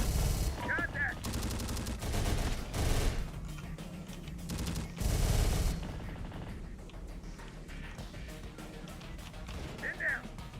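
Gunfire in the video game Terminator: Dark Fate Defiance, with loud rapid automatic bursts and booming shots in the first half that thin into scattered distant fire, while radio voices speak over it.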